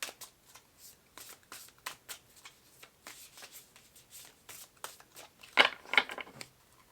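Tarot cards being shuffled by hand, quick papery riffles and slaps in an uneven rhythm, close and soft, with a brisker louder flurry near the end, no talking.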